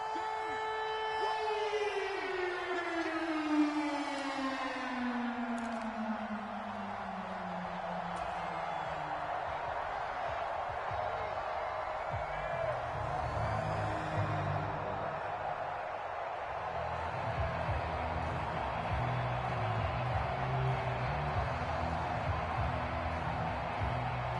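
Stadium crowd noise in an American football video game: a steady roar of spectators running throughout, overlaid by a loud rising-and-falling siren-like wail in the first half, with no voices.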